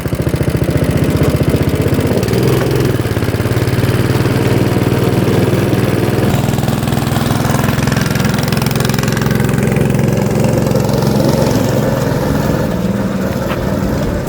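A go-kart engine runs steadily throughout a test drive, a loud, continuous mid-pitched drone with slight shifts in revving and no talk over it.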